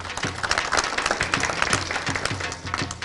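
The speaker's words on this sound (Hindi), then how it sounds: "तालियां जी बहुत" An audience at a televised farmers' prize-giving claps loudly and continuously, a dense crowd of hands with low rumbling underneath and a few voices in the mix.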